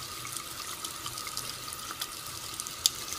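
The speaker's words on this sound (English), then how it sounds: "slow running water" Slow-running tap water trickles steadily into a sink while a makeup brush is washed, a soft continuous close-up stream with faint splashes and no talking.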